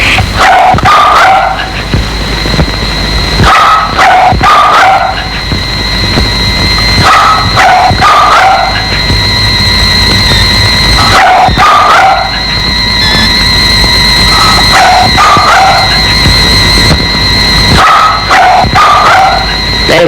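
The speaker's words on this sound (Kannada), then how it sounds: "ಈ ಹಾಳಾದ ನಾಯಿಗಳು ಕಾಟ ಮಲಗಕ್ಕೂ ಬಿಡೋಲ್ಲ." Several dogs bark at night in a Kannada feature film scene. The loud, close clusters of yaps repeat every few seconds over a constant background hum, with no voices.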